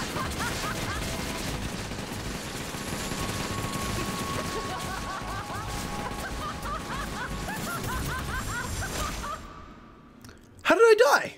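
A sustained, dense barrage of gunfire from Vivian's multi-arm shot in Killer is Dead, steady and crackling for about nine seconds, with voices under it, then a drop to near quiet and a short, loud final burst.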